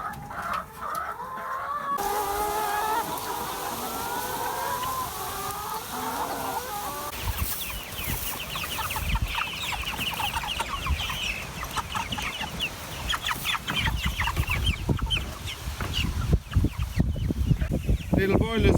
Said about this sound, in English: Little broilers on their long march.